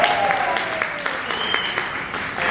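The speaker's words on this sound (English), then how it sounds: "come on, clap it up for Kelsey" An audience claps at a talk in a local art museum, a modest crowd giving a close, moderately loud round of applause with a few sharper individual claps and faint voices underneath.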